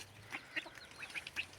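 Farmyard ducks, a drake among them with ducklings, give a handful of short, faint quacks spaced irregularly over a quiet background.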